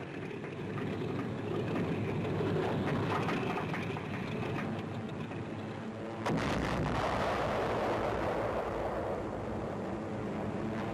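Continuous rumbling anti-aircraft flak fire and explosions from WWII airborne assault footage of Operation Varsity across the Rhine near Wesel, Germany, as a C-46 transport is hit; dense, loud and steady, with a sharper burst about six seconds in.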